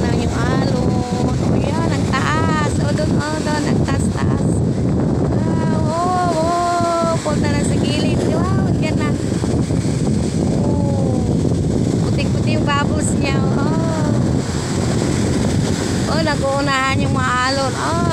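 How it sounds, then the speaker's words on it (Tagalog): Strong ocean waves roar in a constant low wash of surf, with wind buffeting the microphone and voices talking over it throughout. "dyan na naman yung malakas na alon"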